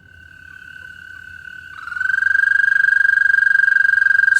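An adult American toad sings a long, high, steady trill. It starts softly, then swells and holds loud and close, with a faint low rustle beneath.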